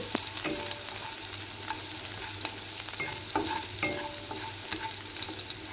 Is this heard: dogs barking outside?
no